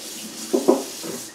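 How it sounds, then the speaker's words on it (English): Water from a kitchen tap rinsing a spoon while barbecue sauce is being made, a short splashy gush with two quick clinks close by, then a softer trickle. "I'm gonna rinse off my spoon here."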